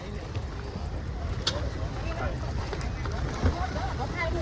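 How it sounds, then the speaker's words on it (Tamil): Speed boat carrying passengers to Coral Island off Pattaya, a steady engine and water rumble with wind, heard under people talking nearby. "இதான் ஸ்பீட் போட் பாருங்க."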